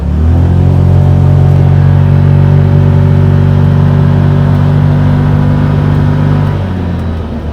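A 2024 Can-Am Defender Max Limited UTV cruising, its engine holding a loud, steady, close drone with a strong low hum that eases off slightly near the end, no talking.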